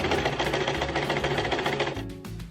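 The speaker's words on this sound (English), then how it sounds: "I pinned them together and sewed along the traced markings" A sewing machine stitches canvas stays mock-up seams in a fast steady whirring run that stops abruptly near the end, loud and close with no voices.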